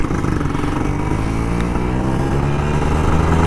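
Kawasaki Ninja RR 150 two-stroke motorcycle engine running steadily on a morning ride, a loud, continuous buzzing drone with layered harmonics and no pauses, held close throughout.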